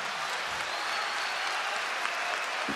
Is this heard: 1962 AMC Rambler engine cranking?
no